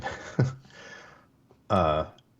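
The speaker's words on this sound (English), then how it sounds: "I'm burping some, so I'm trying to." A voiced, croaky burp rings out near the end, preceded by brief breathy vocal sounds; no words are spoken.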